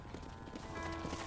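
Horse hooves clip-clopping at an easy walk in the Red Dead Redemption video game, a quick run of soft, fairly faint hoof knocks over light background ambience.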